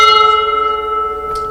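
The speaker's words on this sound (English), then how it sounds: "There's a bell behind Andrew for some reason that he just ran into." A metal bell marked Navy, struck when someone bumps into it indoors, rings loud and close, its clear tone slowly fading with a faint shuffle near the end.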